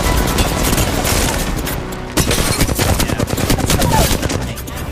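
Dense gunfire in a video game, a sustained fusillade of rapid automatic shots with booms, loud and continuous, briefly dipping before resuming at full intensity.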